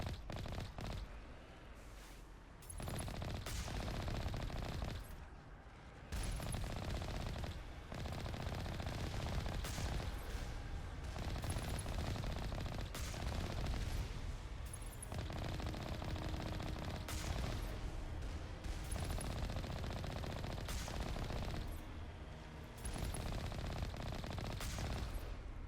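Sustained rapid gunfire at turrets in the game Mass Effect keeps up in long continuous bursts, broken by a few short pauses, loud and dense throughout, with no talk.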